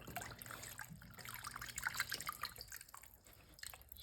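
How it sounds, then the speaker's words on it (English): Two cups of chicken broth poured slowly into a pan with flour cooked onto the bottom, a soft steady trickle and dribble of liquid, close and quiet, with no talking. "slowly 2 cups of chicken broth"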